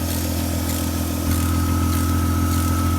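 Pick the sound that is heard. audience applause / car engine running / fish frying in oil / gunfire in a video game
car engine running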